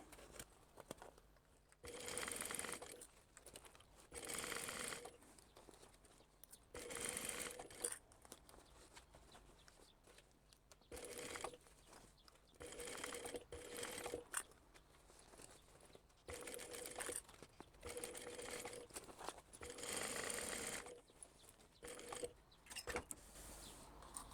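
A domestic sewing machine works slowly through a thick crossbody bag, running in short, quiet bursts separated by pauses, with repeated start-stop stitching throughout.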